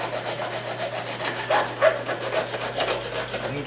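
Metal file rasping burrs off the frets of an electric guitar neck, a close, steady series of short scraping strokes repeated in a quick rhythm with no talking.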